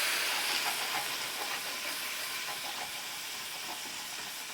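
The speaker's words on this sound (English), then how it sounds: "I'm gonna deglaze with a cup of red wine. I wanna get those brown bits up off the pan." Red wine poured into a hot pan to lift the browned bits, giving a loud, steady broadband sizzle and hiss that holds evenly across the whole stretch with no talking.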